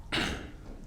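A single harsh cough erupts close to the microphone in a meeting setting, a short loud burst that trails off quickly.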